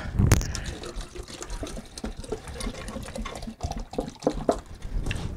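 Water runs and splashes into an animal trough with gurgling, uneven bursts, alongside some clattering handling noises close by.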